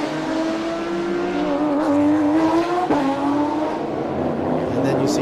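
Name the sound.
race cars on track during a Porsche touring car race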